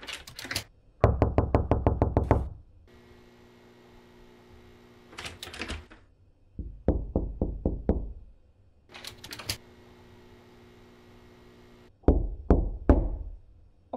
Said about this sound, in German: ich kann tatsächlich klopfen mit Rechtsklick